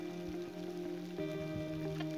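Steady rain falling outdoors over a meadow, a continuous dense patter of drops with a constant wash of noise and some steady tonal hum underneath, no talking.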